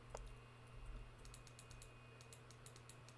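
Mouse and keyboard clicks at a computer while playing Sons of the Forest, a quick run of sharp clicks in brief bursts over a steady low hum, fairly faint and close, with no talking.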